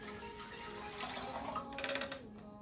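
Water runs and splashes into a big cooking pot nearby, fairly quiet, with the pitch rising slightly as it fills.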